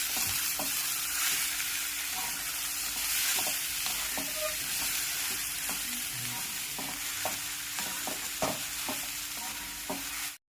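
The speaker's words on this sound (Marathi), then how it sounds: "बटाटे आणि मसाला छान मिक्स करून घ्यायचा." Potato and masala filling for batata vada is mixed in a hot pan, a steady sizzle with repeated spoon scrapes and knocks at an irregular rhythm, close up and without talking, ending abruptly.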